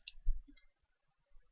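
A computer mouse button clicking on a download button: one faint, close click followed by a softer tap, then near silence.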